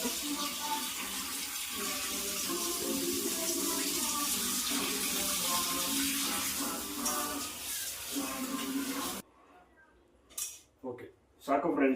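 Dishes and cutlery are washed under a running kitchen tap, a steady wash of flowing water with clinks of utensils for about nine seconds before the tap stops, then brief splashes and clatters.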